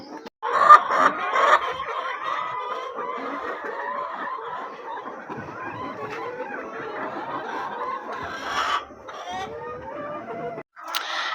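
Hungry farm chickens cluck and squawk in a steady, busy chorus at morning feeding time, close and fairly loud throughout, with a louder burst of calls near the start and no talking.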